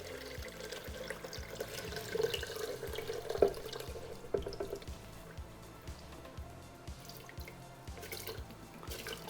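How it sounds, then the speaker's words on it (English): Toasted coconut horchata mixture is poured into a blender, giving a steady liquid splashing and trickling sound with a few brief clunks, moderately quiet and heard alone without talk. "then just gonna be pouring my mixture into the blender"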